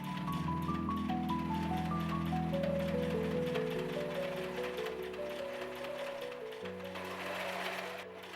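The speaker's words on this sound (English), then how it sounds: "back panel is pinned on, so let's sew it in place" A sewing machine stitches the back panel onto a hoodie, running continuously with a rapid mechanical whir and clatter, close and loud, with no talking.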